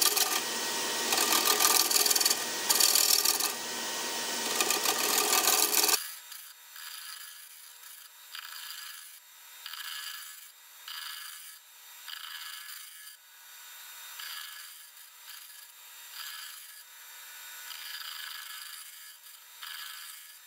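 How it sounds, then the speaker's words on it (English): Woodturning tool taking gentle shearing cuts on a boat-style wooden bowl spinning on a lathe, a close, rough hissing scrape heard first full and loud, then thin and bright in repeated back-and-forth passes, with no talk. "I'm just going to use a shearing, just nice shearing cut, just take little bits of it and shape it back and forward,"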